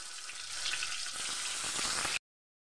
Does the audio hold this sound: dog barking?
no